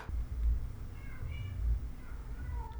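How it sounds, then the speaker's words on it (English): A cat meows faintly a few times from outside a door, muffled and distant, over a loud low rumbling background. "I'm so sorry if you can hear my cat crying outside the door."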